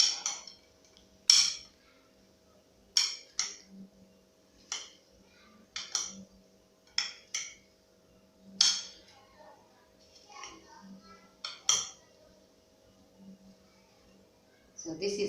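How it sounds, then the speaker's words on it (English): A spoon scraping and clinking in a bowl while fruit salad with sultanas is stirred, giving sharp irregular taps and clacks spaced about a second apart against a quiet background. "So I'll mix again."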